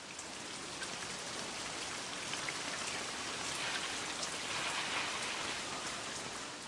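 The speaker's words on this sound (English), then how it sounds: "Back at the hotel, it's raining in paradise." Steady rain falls at a hotel in Mauritius, a dense even hiss of drops on surfaces that holds at a constant moderate level throughout, with no voices.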